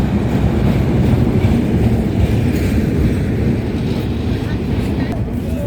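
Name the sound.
train arriving at Gendaria railway station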